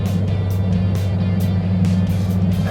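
Toyota LandCruiser 200 Series climbing a rise in 6th gear at about 100 km/h with no load, giving a steady low engine hum and road noise inside the cabin, with a few brief higher swishes over the top.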